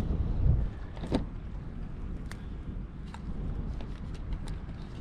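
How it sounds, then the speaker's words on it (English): Wind buffets the microphone in uneven gusts on the coast at Cumbria, with a low roar and occasional sharp thumps throughout. "it's the first time I've ever felt a gust and wind"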